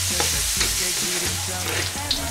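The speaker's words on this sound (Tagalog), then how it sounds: "prito muna natin yung karne ng baboy" Pork pieces fry in a pan until slightly crisp, giving a steady close sizzle broken by scraping stirs and a few sharp pops, with no talking.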